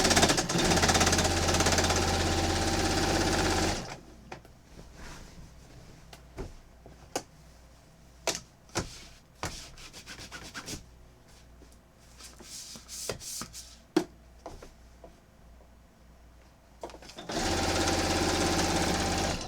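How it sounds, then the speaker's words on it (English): A sewing machine stitches quilt binding in quick bursts of rapid mechanical knocking between pauses, framed by a loud steady hum at the start and end. "I'm going to start sewing about a 1/2 inch from the end"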